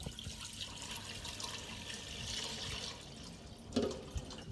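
Water running from a tap into a cooking pot, about 1.5 litres for pumpkin soup, a steady broadband rush with a brief clatter near the end, no talking.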